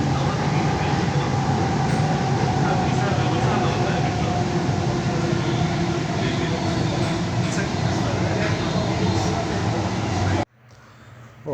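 A Bangalore Metro train runs with a loud, steady rumble and rolling roar, heard from on board or close by, that cuts off abruptly near the end and is followed by quieter ambience.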